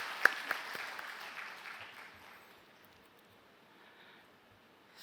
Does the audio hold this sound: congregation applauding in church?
yes